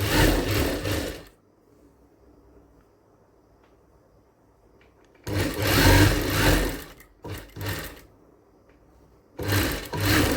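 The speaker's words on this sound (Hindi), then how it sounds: "यहां से 1/4 इंच की सिलाई लगानी है" A sewing machine stitches a 1/4 inch seam on a blouse in loud, close bursts: about a second at the start, a long run from five to seven seconds, a short burst near eight seconds, and another at the end, with near silence between.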